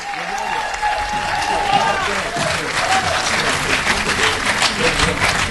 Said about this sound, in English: Put your hands together and welcome her to the podium.